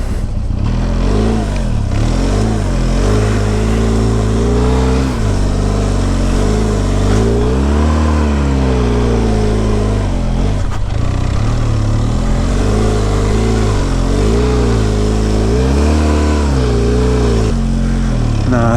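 A Benelli TRK502 X motorcycle is ridden off-road, its engine loud and close throughout, rising and falling in pitch as the throttle opens and closes in repeated revving surges over a steady drone.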